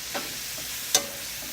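A spoon briefly stirs pork frying in a pan with calamansi for pansit palabok, giving a soft continuous sizzle with two short scraping clinks.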